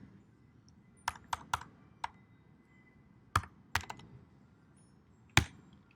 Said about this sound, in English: you can type in your keyword, temperature